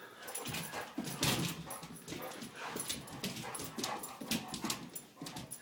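A dog whimpers and whines in short, repeated bursts, fairly close, with some scuffling noise around it.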